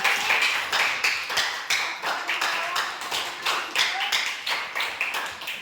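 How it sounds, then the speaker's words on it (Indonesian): A classroom of students claps for two classmates in irregular bursts of hand claps, close and fairly loud, with uneven rhythm and brief gaps between the rounds. "beri tepuk tangan untuk Wil dan Zaki"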